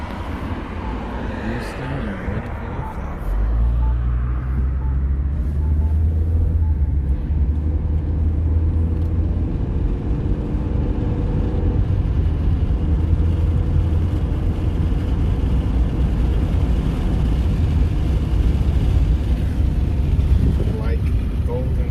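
A high-mileage Honda Civic with freshly changed AMSOIL transmission fluid is heard from inside the cabin. Low engine and road rumble build after about three seconds and hold steady and loud as the car drives.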